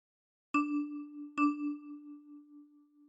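Two plucked notes on a ten-key kalimba, the same key struck twice about a second apart, each ringing with a bright metallic tone and a long, slowly fading sustain, played alone and close.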